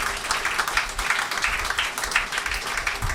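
Applause for Sunil, the sound man, at a gathering during a boys' cricket tour to Kutch: a crowd claps steadily throughout, close and continuous, with no clear voices over it.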